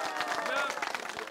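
Korean outdoor village sports-day audience clapping for a guest team, a dense patter of many hands with crowd murmur mixed in, fairly close and steady.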